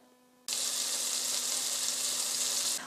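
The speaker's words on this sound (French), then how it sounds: "on va commencer par faire fondre le beurre et après avoir émincé votre céleri, le faire revenir dans la casserole" Loud, steady sizzling of sliced celery frying in melted butter in a saucepan, starting abruptly after a brief quiet moment and continuing without talk.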